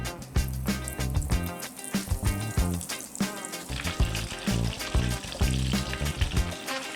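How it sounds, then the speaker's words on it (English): Breaded chicken pieces sizzle and crackle steadily in 350-degree frying oil, a dense, close, continuous bubbling hiss with scattered louder pops. "We're gonna fry these 350 for about 3 to 4 minutes."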